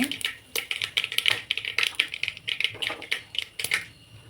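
Mustard seeds spluttering in hot oil, a rapid string of sharp, irregular pops and crackles close by, with faint talk underneath.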